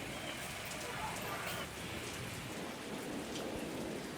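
Steady rain falls across the clip during intermittent monsoon downpours in Sikar, Rajasthan, a dense, even hiss of drops striking surfaces with no distinct thunder, continuous and fairly close for the full duration.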